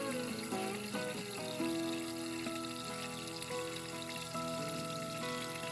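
Water pours steadily into a Maytag washing machine tub, a soft continuous rushing with faint hum underneath, fairly quiet and uninterrupted.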